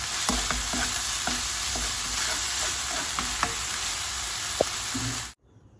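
Garlic and meat stir-frying in a pan until golden, a loud continuous sizzle broken by scattered clicks and scrapes of stirring, ending abruptly in silence.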